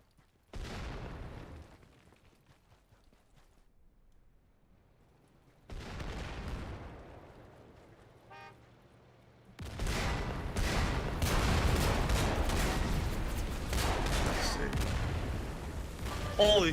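Booming mortar and gun fire from the front line in the video game Foxhole, a few isolated blasts at first and then a dense, continuous barrage of loud explosions, with a voice talking over it.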